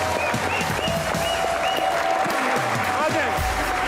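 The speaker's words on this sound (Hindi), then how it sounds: "Put your hands together for" Studio audience applause at a Pakistani Eid comedy talk show taping, a steady dense wash of clapping with crowd noise and some voices mixed in throughout.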